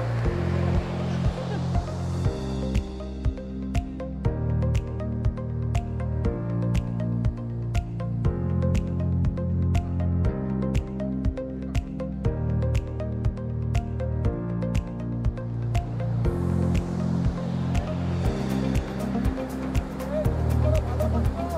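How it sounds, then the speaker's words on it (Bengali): A fleet of fishing trawlers passes at sea, with steady, loud, rhythmic diesel engine thumping and a harmonic drone pulsing evenly throughout, alongside clicking knocks and water noise. "এক ঝাঁক ট্রলার চলে যাচ্ছে মাছ ধরার জন্য।"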